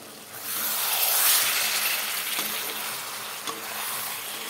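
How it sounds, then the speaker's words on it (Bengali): Fish sizzling in hot oil with tomato spice paste in a pan for a Bengali fish curry, a loud continuous frying hiss that swells then settles, with faint stirring scrapes near the end. "মাছগুলো এখন মশলার সাথে আবার একটু কষিয়ে নেব।"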